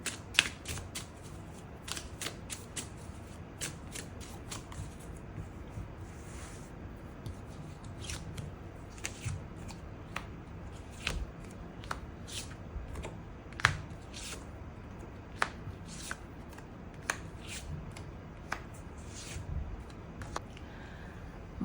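Tarot cards shuffled and drawn for a love reading, a steady run of soft, close card clicks and riffles, fairly quiet, with no voices.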